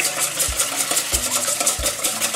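Vanilla, vegetable oil and butter are stirred together in a bowl, a close, continuous scraping swish with three soft thumps as the utensil knocks the bowl.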